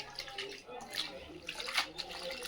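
Fresh coriander leaves are swished and rinsed in a small bowl of water, giving soft, close splashing and dripping that is faint and intermittent, with a quiet voice in the background.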